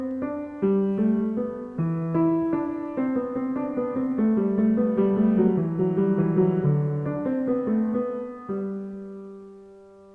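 Recorded Bach choral fugue with the basses singing the opening figure before other voice parts enter and layer into dense, sustained polyphonic choral singing at steady volume, fading at the end.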